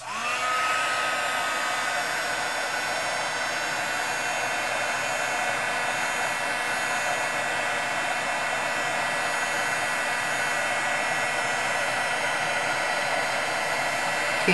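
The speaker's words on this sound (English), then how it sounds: "This is heat embossing." Heat gun blowing hot air for heat embossing a stamped image, a steady loud hissing whoosh that starts abruptly and runs without a break.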